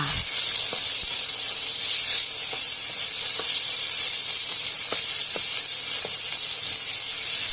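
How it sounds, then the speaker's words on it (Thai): Pork belly stir-frying in a hot pan, a loud steady hiss with a few scattered pops and scrapes, close and continuous. "ผัดหมูสามชั้นให้สุกค่ะ"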